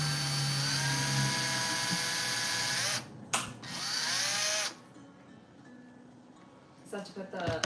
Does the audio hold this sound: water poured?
no